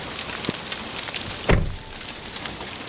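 Small hail falling during a tornado-producing storm in Loire-Atlantique, heard through an open window as a steady patter, with one louder thump partway through and no talking.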